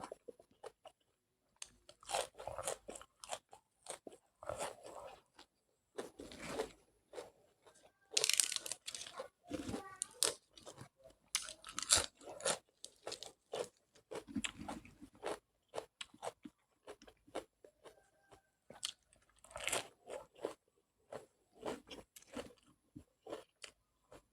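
Close, loud crunching and chewing of crisp lettuce eaten with a spicy Thai pounded shrimp salad, dense bursts of crisp bites and mastication repeating irregularly throughout with brief pauses and no talk.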